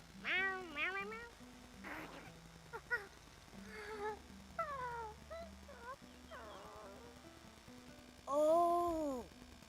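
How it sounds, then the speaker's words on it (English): A creature in the video game Infinity Nikki gives a run of distinct meows, about half a dozen clear, rising-and-falling cat-like calls spaced out over soft background music, the last one longest and loudest. "Meow, meow, meow, meow, meow."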